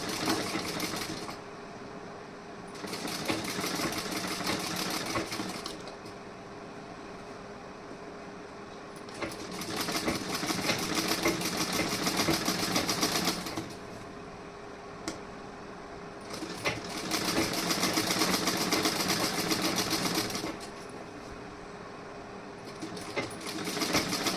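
A sewing machine runs a long basting stitch in several bursts of steady, fast whirring clatter, each lasting a few seconds and separated by quieter pauses with a low motor hum.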